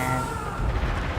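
Heavy booming gunfire in Mass Effect 2 Legendary Edition on Insanity difficulty, a couple of deep close blasts rolling under a dense, loud game mix.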